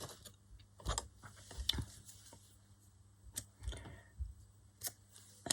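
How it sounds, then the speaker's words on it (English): Scissors snip through a strip of paper while making a spring journal flip pocket, giving a few quiet, close, sharp cuts with small handling clicks in between. No talking is heard. "So I'm going to cut a bit off. Okay, I'll cut off that end there."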